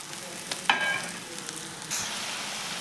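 Chamkura leaf vadi pieces sizzle steadily in a hot pan, with soft stirring scrapes and a few sharper clinks of a spoon against the metal, close and continuous.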